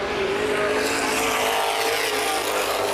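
Late model race cars at Baer Field Speedway: a loud, continuous roar of engines at full throttle with a sustained high whine, cars racing close together without letup.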